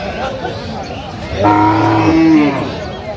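Dairy cow at a busy village cattle market in Aftabganj, Bangladesh, giving one long, loud, drawn-out moo close by over a murmur of crowd and voices.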